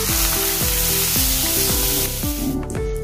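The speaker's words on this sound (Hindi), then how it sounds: "अभी जो हमने तड़का तैयार किया है वो इसमें हम डाल देंगे।" Hot tadka tempering poured into a semolina and wheat flour batter sizzles loudly and steadily up close, with spoon scrapes and stirring clatter breaking through, then eases slightly toward the end.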